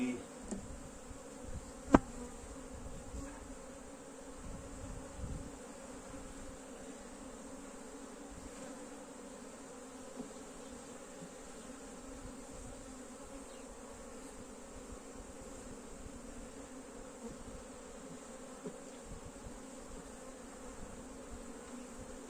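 Honey bees buzz steadily around a beehive during work to remove queen cells, a dense, continuous drone close to the microphone, with a single sharp knock early on and no talk.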